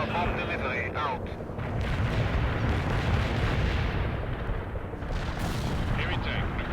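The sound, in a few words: bomb strike explosions from video game World in Conflict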